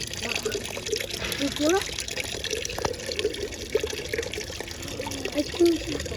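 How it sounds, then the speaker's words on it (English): A small waterfall in New Zealand nature, heard as a steady close trickling and splashing flow beneath people talking and exclaiming. "A mini waterfall."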